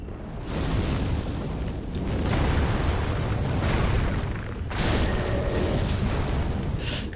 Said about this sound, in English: She said as she immediately gets hit by a fireball.